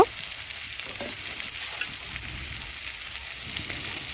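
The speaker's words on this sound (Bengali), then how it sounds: "এখন মশলা ভালোভাবে পেঁয়াজের সাথে নাড়াচাড়া করে মিশিয়ে আমি একটু কষে নেব" Onion with turmeric, chili powder and a splash of water sizzles steadily in a pan while being stirred, a continuous close hiss with occasional scraping spoon knocks and no talking.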